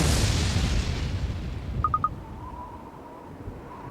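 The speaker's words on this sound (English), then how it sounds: "So was that lightning strike right next to there?" Lightning strike in a video game: a loud, broad crash that fades out over the first seconds, followed by three quick tonal blips and a faint sustained tone.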